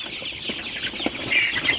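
Sonali super hybrid chickens cluck softly in a crowded shed at night, some perched on bamboo, with a steady hiss of background noise and a few faint flaps.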